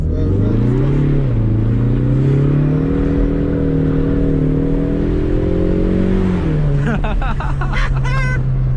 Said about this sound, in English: I see if we can do a nice donut